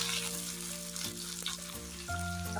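Onions for a prawn curry sizzle in hot oil in a pan, with a steady, close frying hiss, occasional stirring scrapes and faint background tones.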